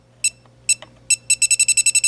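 Electronic refrigerant leak detector held along an A/C pipe: a few sharp, high bleeps spaced apart, then a rapid, evenly spaced run of loud beeps as it speeds up, over a low steady hum.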